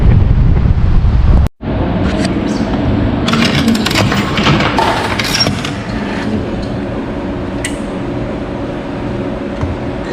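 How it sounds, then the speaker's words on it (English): Gusty wind on the Mississippi River buffets the microphone in loud, rumbling blasts, with a sharp brief cutout early on and a steadier roar afterward. "Windy."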